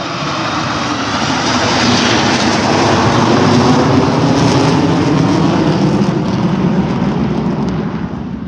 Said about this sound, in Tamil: பாருங்க, ஃப்ளைட்டு பறக்குது பாருங்கள்